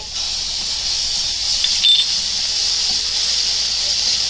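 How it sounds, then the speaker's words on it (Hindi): Steady, bright frying sizzle of ginger and garlic with softened onion in a hot pan, continuous and close, with a brief scrape partway through. "अच्छे से भुनेंगे इसको, कच्चापन जाने तक भुनेंगे।"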